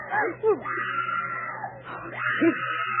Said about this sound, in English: The screams came from near the animal cage